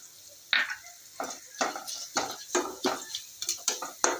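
Fennel seeds and garlic fry in a pan, stirred with a utensil in a series of scraping, rattling strokes over a faint sizzle, close and fairly quiet.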